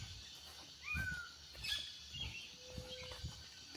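Birds calling in a misty jungle at dawn, a few faint chirps and short whistled notes scattered over a quiet, hissy forest background, distant and sparse.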